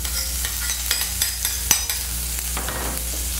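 Chopped scallions hit hot sesame oil in a wok over medium heat, giving a steady close sizzle broken by several sharp clicks of a spatula stirring against the pan.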